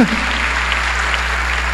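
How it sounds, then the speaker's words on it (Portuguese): A church congregation applauds during a sermon at an annual convention of churches, a brief burst of clapping over a steady low hum, fairly loud and close throughout. "Você pode aplaudir ao Senhor, porque isso é de Deus."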